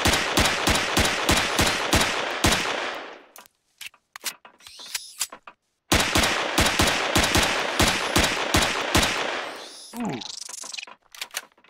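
Pistol shots in the video game Empyrion, a rapid run of evenly spaced sharp shots, a pause with scattered clicks and shuffling, then another fast string of shots and a brief rising whoosh.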